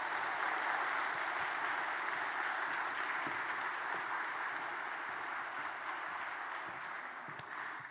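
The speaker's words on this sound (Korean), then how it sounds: "큰 박수 보내주십시오" A Presbyterian church congregation in Ulsan applauds newly baptized members, a steady wash of moderate clapping sustained evenly for several seconds.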